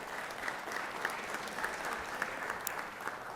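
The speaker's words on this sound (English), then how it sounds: "Let's give her a round of applause." Steady applause in a Georgia state senate chamber for a senator's wife, many hands clapping together evenly throughout.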